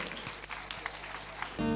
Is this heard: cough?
no